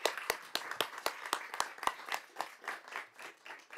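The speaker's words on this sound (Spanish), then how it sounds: "hoy sí se merece un grande y espectacular aplauso" A few people clap for Alberto Lema during a municipal council ordinary session, a sparse, irregular patter of sharp claps that thins out and fades, heard close and without talk.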